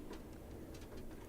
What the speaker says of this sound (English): Or it sounded like there was a bird singing.